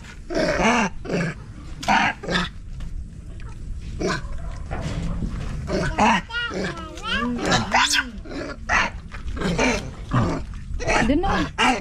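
A dog growls and snarls with strained, whiny vocal bursts while people talk over it in Filipino at a house under construction.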